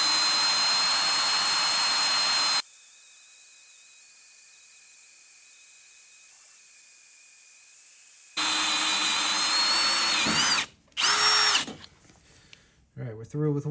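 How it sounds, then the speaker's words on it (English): A drill runs slowly on a Honda HS snowblower impeller seal, a loud steady whine that stops and then restarts, breaking into short bursts toward the end. "I'm going to let the drill do the work."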